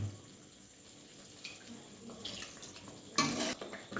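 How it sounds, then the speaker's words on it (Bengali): A splash of water poured into thick paneer gravy in a pan, a short burst of pouring near the end after quiet kitchen rustling, close and moderately loud. "এটাতে আমি একটু জল দেবো গেমিটা বাড়াবার জন্য"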